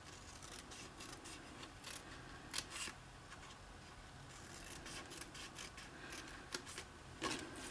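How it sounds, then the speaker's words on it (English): Score lines are cut into the corners of a handmade Easter picnic basket, with a series of quiet, irregular snipping and rasping cuts repeating steadily and close by. "now we're going to cut all the score lines on these 3 sections here on all 4"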